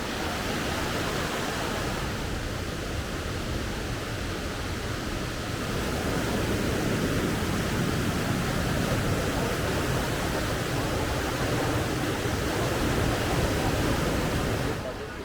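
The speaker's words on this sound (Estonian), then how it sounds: "Latefossen on üks enim külastatuid koski Norras ja üks kaunimaid." Steady, loud broadband roar of Låtefossen, a twin waterfall in Norway, rushing continuously and close by for the whole stretch with no pauses.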